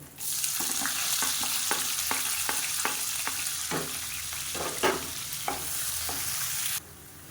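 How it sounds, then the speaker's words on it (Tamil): Sliced onions fry in oil until golden for a Chettinad egg curry, with a constant close sizzle punctuated by a rhythmic series of spatula taps and scrapes before the sizzle abruptly drops. "இப்போ வெங்காயம் இந்த அளவுக்கு நல்லா பொன்னிறமாக வறுத்துக்கோங்க"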